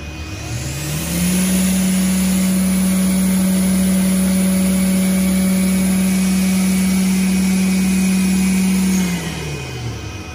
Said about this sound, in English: Let's show you safe light, which is when we start the machine up. We start the main blade up.